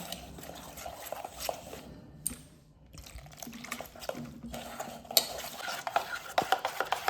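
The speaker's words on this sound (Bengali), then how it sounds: "অল্প অল্প জল দেবো আর মেশাতে থাকবো।" A spoon stirs batter with a little water in a bowl, giving wet, squelching swishes and small clinks against the sides, close and fairly quiet, with a brief pause midway before the mixing resumes more briskly.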